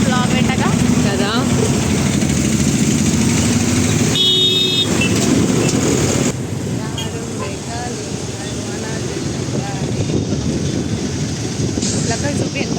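Road traffic rumbles steadily, with passing engines and a short horn toot in the middle, while people talk over the noise.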